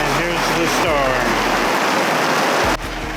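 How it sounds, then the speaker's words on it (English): Rain and some hail fall hard during a mountain storm, a loud, steady wash of drops that suddenly eases near the end, with faint voices underneath. "A little bit of hail there."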